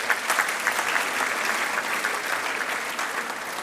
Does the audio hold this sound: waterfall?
no